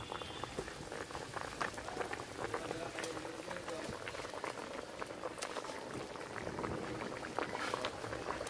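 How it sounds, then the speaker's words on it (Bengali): A pot of pineapple katla fish curry gravy boils steadily, a dense, even bubbling and crackling that stays close and moderately loud throughout with no break. "ঝোল ফুটে গেছে"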